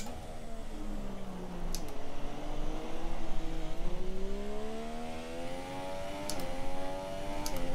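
Simulated race car engine from an online sim-racing league round at Malaysia in heavy rain, a steady revving whine rising and falling through gear changes, with brief downshift dips and a continuous buzzy tone, no talk over it.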